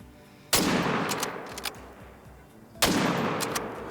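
Two loud rifle shots ring out about two seconds apart in a hunting video game, each a sharp crack with a decaying echo, aimed at an animal, with no talk.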